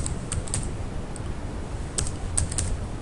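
Close, quiet typing on a computer keyboard while writing Python code, with scattered key clicks in short irregular bursts and pauses, no voices.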